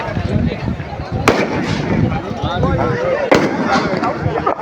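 Firecrackers go off at a vadamadu manjuvirattu bull-taming event in Kamuthi, Ramanathapuram district, with two sharp, loud bangs a couple of seconds apart. A busy crowd and an announcer's voice continue underneath.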